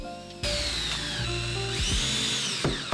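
Power drill driving screws into a router table insert track, loud and close, with a steady whirring motor and pitch shifts as screws seat, several short bursts back to back over a few seconds.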